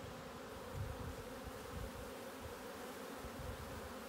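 A honeybee colony buzzing in an apiary hive during inspection, a steady dense drone with no voices, moderately close.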